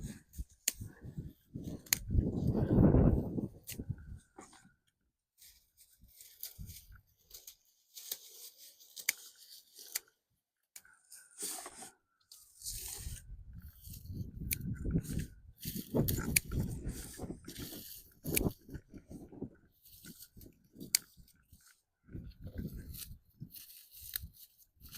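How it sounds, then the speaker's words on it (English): Fountain grass being cut back with hand shears, a few bursts of crisp snipping and tearing close by, separated by quiet gaps, with a person talking at times between the cuts. "I want to just cut this grass."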